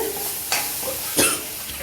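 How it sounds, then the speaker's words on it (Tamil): Quick stirring scrapes through a sizzling mushroom fry mixture in a pan, street-food style, with a couple of louder scraping strokes over a steady hiss. "இதை நல்லா கொஞ்சம் மிக்ஸ் பண்ணிவிட்டு"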